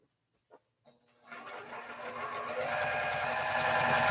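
A sewing machine stitches a quilt, starting after a few faint clicks and then running continuously with a fast, even whir that builds and holds loud and close.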